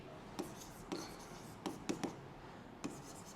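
Pen or pencil writing by hand during a Class 9 science lesson, a handful of short scratchy strokes at an uneven pace, close and quiet against faint room noise.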